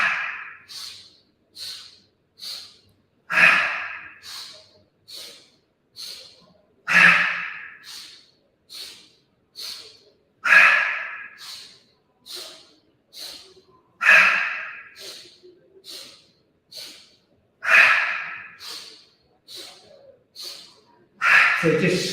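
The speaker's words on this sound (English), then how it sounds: "Inhale, exhale, inhale, exhale." Deep yoga breathing, a steady cycle of audible inhales and exhales repeating for over twenty seconds, close and breathy with rising and falling swells and no talking.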